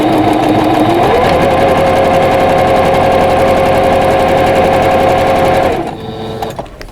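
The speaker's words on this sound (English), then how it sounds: "So I'm just going to go ahead and stitch on this dotted line." A sewing machine runs steadily, stitching a quilt block along a dotted line, with a continuous loud whirring hum that holds for about six seconds before stopping abruptly.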